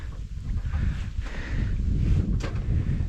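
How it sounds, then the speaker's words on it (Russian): Gusty wind buffets the microphone on a boat on a Siberian river in late autumn, a low rumbling rush that swells and eases over a few seconds. "Ветер еще мешает."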